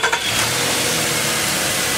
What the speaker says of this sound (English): is going to start the engine for us right now, so we hear it starting